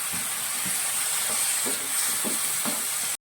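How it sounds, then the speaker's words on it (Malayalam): Potatoes dropped into a pan of sizzling masala for a potato and mushroom curry, giving a steady close frying hiss with faint soft pops and stirring thuds, no talking. "അപ്പോൾ ഇത് നമ്മൾ എടുത്തു വെച്ചിരുന്ന കിഴങ്ങ് നമ്മൾ ഇതിലേക്ക് ഇട്ട് കൊടുക്കുകയാണ് ആദ്യം തന്നെ."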